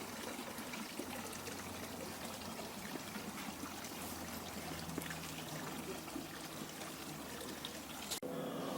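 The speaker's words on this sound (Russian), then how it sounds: "Мини-фонтанчики. Смотрите, камни вот такие вот. И с пенечком вода льется." A small stone garden fountain with a stump-shaped spout trickles steadily, a soft continuous splashing dribble heard faintly and close with a low background hum.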